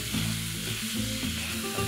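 Beef mince frying in a pan gives a loud, continuous sizzle with brief stirring scrapes as it is broken apart, heard up close and with no talking.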